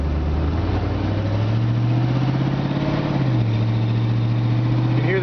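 A 1950 Ford F1 truck fitted with a Chevy 350 V8 and automatic transmission drives along, its low engine drone rising with speed before a gear change drops the revs, continuous and close.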